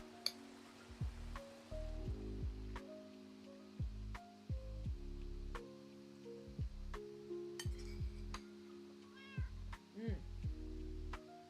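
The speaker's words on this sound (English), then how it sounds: "sorry, I left my cat out in the rain" A cat in Minecraft meows repeatedly in falling rain, short descending mews spaced every second or two over a steady patter of raindrops, with a voice speaking in between.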